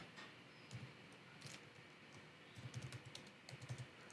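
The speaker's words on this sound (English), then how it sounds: "Then I'm gonna type in Tyson" Soft keyboard typing, a few quiet clusters of key taps in short bursts against a faint background hum.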